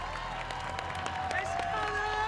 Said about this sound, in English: a round of applause by this very appreciative crowd